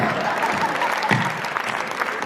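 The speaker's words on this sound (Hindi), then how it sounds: "जो समझेगा वही ताली बजाएगा।" Audience clapping steadily through a Hindi comedy poetry (hasya kavi) show, a dense, even patter of many hands filling the space, fairly loud and continuous.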